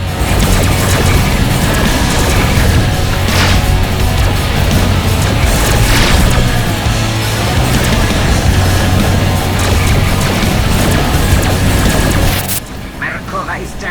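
Incoming missile explosions in the Rebel Galaxy space combat game: a loud, dense wash of booming blasts and crackling impacts lasting about twelve seconds, with voices talking over it, then falling abruptly quieter.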